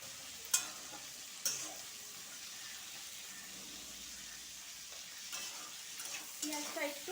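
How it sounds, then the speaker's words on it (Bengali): Onion frying in mustard oil with whole garam masala and bay leaves, a soft steady sizzle with a few sharp spatula clicks against the pan, close and moderately quiet, no talk. "পেঁয়াজটা একটু ভাজা ভাজা করব।"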